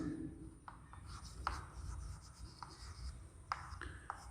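A pen scratches out a handwritten math solution for a class 7 fractions exercise, with irregular strokes and taps, close and quiet, alone without talk.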